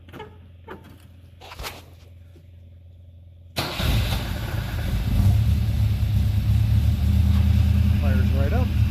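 An old Singer work truck engine cranks and fires up after a brief quiet stretch, then settles into a steady, loud, rumbling idle that continues to the end, with a voice briefly heard over it.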